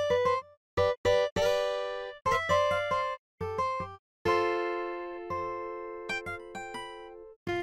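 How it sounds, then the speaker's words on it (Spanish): Sampled acoustic guitar from the free DSK software instrument plays a short melodic phrase of plucked notes and chords, some clipped short and others left ringing, clean and close with no voice. "Esa es la guitarra acústica."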